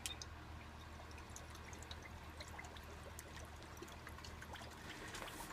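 Worcestershire sauce poured for barbecue hot dog jerky makes a faint, steady liquid trickle with scattered small drips, heard close and quiet with no talk.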